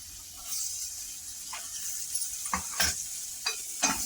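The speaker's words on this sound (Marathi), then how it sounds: "असं परतून घ्यायचं चांगलं" Finely chopped onion with one red and one green chilli sautéing in a pan for masala Maggi, a soft steady sizzle broken by a few scraping stirs toward the end.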